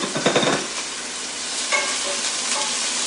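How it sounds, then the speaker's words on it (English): Diced yellow onion sizzles and crackles in a hot frying pan, a steady close frying hiss with occasional stirring scrapes and no talking. "So the first thing I'm going to do is saute my yellow onion that I diced into"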